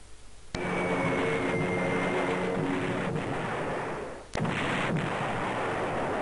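Level bomber air strike in the strategy game Panzer General: a sharp crack opens a sustained roaring barrage of bombs and explosions, with a second sharp impact near the end before the rumble resumes; no talking.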